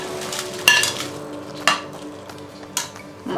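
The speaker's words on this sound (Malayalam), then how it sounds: "എണ്ണയില്ലാതെയാണ് തേങ്ങ വറുത്തെടുക്കാൻ പോകുന്നത്" Grated coconut is dry roasted in a pan without oil for a Kerala prawn theeyal, with a soft continuous sizzle, a few sharp scrapes and clinks of the spatula against the pan, and no talking.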